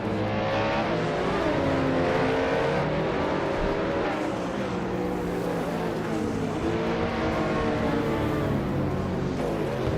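LMP race cars in a racing video game roar steadily, their engine tones rising and falling as they accelerate and shift, with several cars layered together in a continuous, moderately loud drone.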